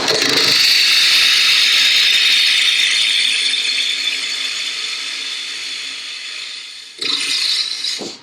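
A wood lathe turns a lidded box while a tool hollows the end grain from the inside out, a loud, sustained grinding hiss that slowly fades, then a short sharp burst of cutting near the end.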